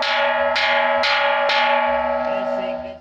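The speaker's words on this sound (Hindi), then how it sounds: "सवात म्यूजियम में अमन की घंटी भी लगाई।" A peace bell at the Swat Museum rings with three bright, resonant strikes about half a second apart, each with a sustained metallic ringing tone that decays slowly and overlaps the next.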